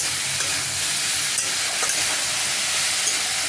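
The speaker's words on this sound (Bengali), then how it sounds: "চিনি এক চামচ দিয়ে একটু ভালোভাবে নাড়াচাড়া করে অল্প জল দেবো" Food with spoonfuls of sugar and cumin powder is stirred in a hot pan, making a constant dense sizzle with soft scraping and stirring noises up close.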